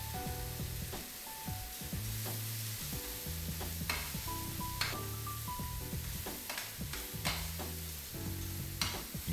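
Crustaceans sear in very hot oil, a faint continuous sizzle punctuated by repeated clattering stirs and knocks against the pan.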